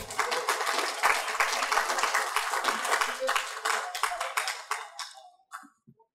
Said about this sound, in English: give Sir Geoffrey and all the others who I named a nice round of applause